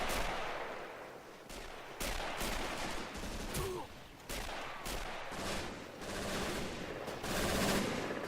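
Machine gun fire in the game Men of War: Assault Squad 2 comes as repeated loud bursts of sharp shots, clustered bursts breaking out every second or so against a dense battle din, with no talking.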